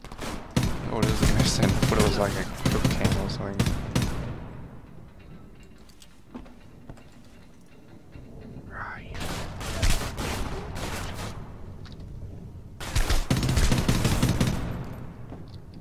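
Gunfire in the Heartland campaign of the shooter game Homefront: sharp bursts of automatic fire crack out in clusters at the start, mid-clip and near the end, with quieter gaps between.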